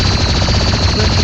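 An energy pistol fires in rapid succession at zombies in a shooting video game, a dense, continuous burst of loud synthetic shots filling the whole moment.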